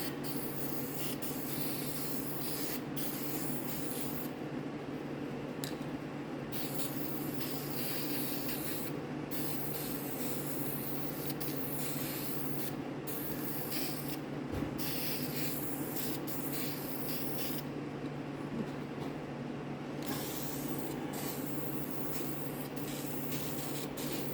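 Spray paint hisses steadily from a can onto car rims, a continuous close airy spray lasting the whole stretch with only slight shifts in intensity and no talking.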